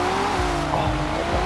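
Cars drifting in the racing game Forza Horizon 4: a steady, loud engine drone with rising and falling revs, faint tyre squeal running underneath.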